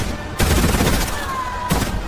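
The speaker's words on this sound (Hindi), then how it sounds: "गोलियों की आवाज ने सब कुछ बदल दिया। सिर्फ 10 सेकंड, 18 राउंड फायरिंग।" Gunfire in a crowd during the shooting of Atiq Ahmed and Ashraf Ahmed, with broadband bursts of firing that set in sharply, keep a dense loud texture and flare again near the end.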